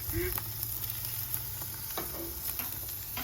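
Steaks sizzle on a very hot grill, a steady broadband hiss that runs unbroken throughout, with faint ticks and pops in the sizzle.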